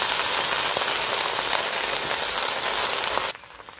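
Leafy greens fry in a hot pan, a dense continuous hiss and crackle that holds loud and steady before cutting off abruptly near the end.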